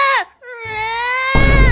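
Loud, close baby crying in drawn-out wailing tones, broken by a brief pause, then ending in a harsh burst of noise.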